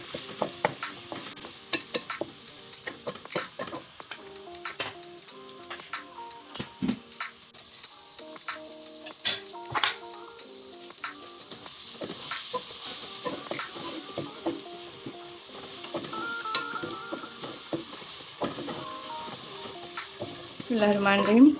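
Onions sizzle and fry in a pan until light brown, with a soft continuous crackle broken by frequent clinks and scrapes of a spoon stirring.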